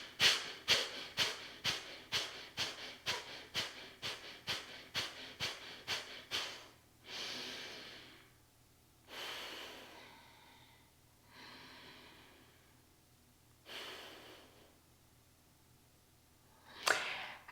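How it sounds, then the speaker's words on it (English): Forceful yoga breathing exhales, a rapid rhythmic series of about a dozen sharp nasal bursts, followed by a few longer, slower breaths and one final sharp exhale, close and alone with no talk. "This time we're going to count 15 exhales."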